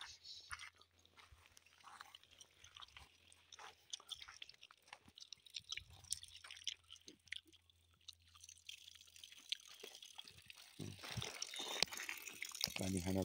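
People chew and munch while eating, soft wet mouth sounds and occasional crunches close by, with talk and quiet handling noises around them.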